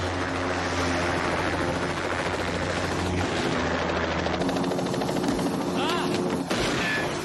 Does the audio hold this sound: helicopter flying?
yes